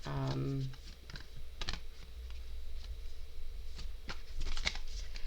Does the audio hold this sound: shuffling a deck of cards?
yes